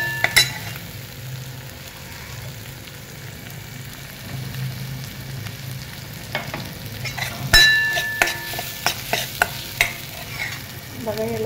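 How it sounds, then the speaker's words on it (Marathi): Onion masala with turmeric fries in oil in a pan for alu vadi rassa bhaji, a steady soft sizzle, then sharp spoon clanks and scrapes as it is stirred near the end. "ह्याला चांगलं तेल सुटेपर्यंत पण भाजून घ्यायचं"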